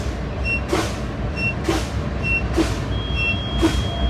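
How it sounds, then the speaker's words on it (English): Air brakes on a truck being pumped during a pre-trip test, a steady idling rumble underneath repeated short hissing bursts about once a second, with a faint tone sounding near the end. "I'm gonna start pumping my brakes."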